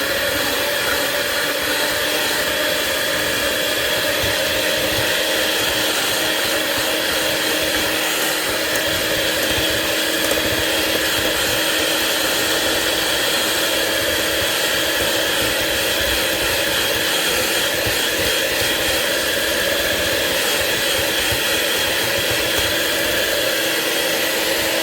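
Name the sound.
electric hand mixer mixing cookie dough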